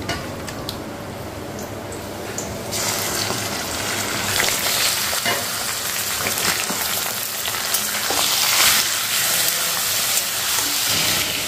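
Fish laid into a hot pan in a home kitchen, chicken cooking alongside, gives a steady loud sizzle and frying hiss that swells near the end, with no voices.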